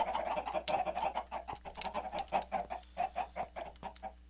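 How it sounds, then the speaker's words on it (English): Minecraft chickens cluck in a steady, rapid series of short clucks that overlap into a busy farmyard chatter, close and continuous with no voices. "enough to not really hear the chicken sounds"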